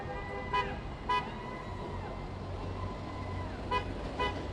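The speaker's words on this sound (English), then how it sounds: "You can hear a lot of those people honking in support of the workers." Car horns toot in short bursts from passing traffic supporting AT&T workers at a Nashville protest, four or so honks spread apart over steady road noise, moderately distant.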